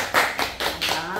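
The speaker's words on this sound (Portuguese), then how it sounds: "Uma salva de palmas." A brief round of clapping on a Brazilian emotional tribute program, about four or five distinct claps in a steady rhythm, close and fairly loud.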